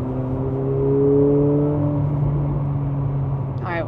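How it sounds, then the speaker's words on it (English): The engine of a McLaren 750S Spider hums steadily inside the cabin, with a low drone whose pitch shifts slightly as it rolls along, and a brief chirp near the end. "hopefully you can hear the engine okay in the back"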